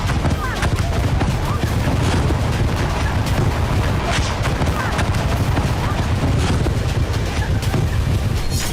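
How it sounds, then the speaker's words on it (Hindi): Cluster bombs burst over Sevastopol beach in a dense, continuous crackling barrage of overlapping blasts, loud and relentless throughout with a heavy low rumble and wind buffeting the microphone. "अचानक आसमान से क्लस्टर बम गिरने लगते हैं।"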